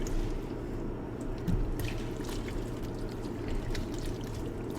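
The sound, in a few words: stirring hot pot broth with porcini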